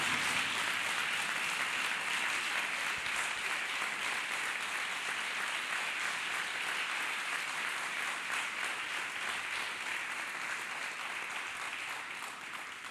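A congregation claps hands together in praise of Jesus Christ at a church healing service, a dense, steady wash of clapping that holds evenly throughout and tapers slightly at the end.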